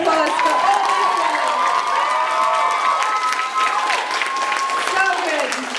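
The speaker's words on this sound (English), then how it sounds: "Can we just have one massive round of applause for all of you?" Crowd at a pole-fitness competition results event clapping and cheering loudly, with whoops and high shouts over continuous applause, close and sustained throughout.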